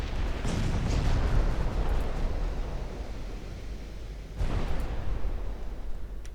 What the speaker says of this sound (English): As the battleship caliber shells slam into her.